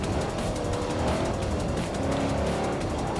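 A car driven flat out, its engine revving loud and steady throughout, with tires squealing and no talking, pitted against a Chevrolet Chevelle SS.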